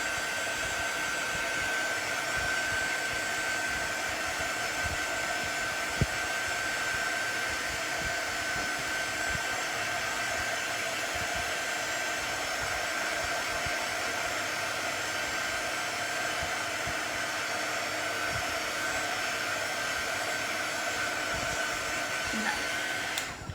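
A hair dryer blows steadily and loudly for the whole stretch, drying a painted wood house cutout craft, with a constant whirring hum and no talking.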